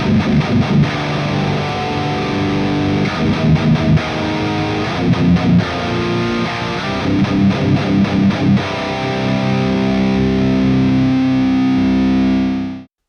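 Heavily distorted metal guitar driven through an Airis Effects Brutal Boost pedal into an amp sim, tight palm-muted chugs and stop-start riffing, then a held chord ringing out before cutting off, loud and alone.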